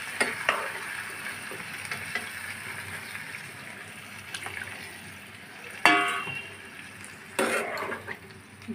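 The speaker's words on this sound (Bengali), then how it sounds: "জলটা দিয়ে ভালোভাবে নেড়ে চেড়ে আমি একটু ফুটিয়ে নেব।" A spoon stirs food in a pan after water is added, with soft scraping and a quiet simmer, plus a couple of sharper clatters near the end.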